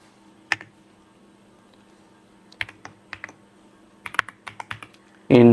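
Keys clatter on a computer keyboard during a RISC-V assembly programming lesson, sounding as scattered single taps and short bursts of clicks, close and fairly quiet, ending in a louder rush of noise.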